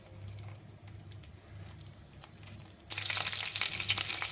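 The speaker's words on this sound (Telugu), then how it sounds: "ఇప్పుడు ఈ నూనెలో శనగపప్పు, మినపప్పు, ఆవాలు, ఎండుమిర్చి, జీలకర్ర, కొద్దిగా కరివేపాకు యాడ్ చేద్దాం." Chana dal, urad dal, mustard seeds, dried red chillies, cumin and curry leaves go into hot oil, shifting from a quiet low bubbling to a sudden bright crackling sizzle that stays loud and close.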